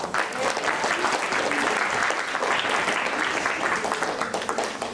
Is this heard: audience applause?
yes